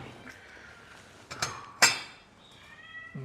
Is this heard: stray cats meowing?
yes